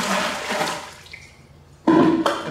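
About a gallon of water poured into a turkey brine, a splashing rush of liquid that fades out, then a louder, abrupt burst of pouring and splashing near the end, close and with no talk.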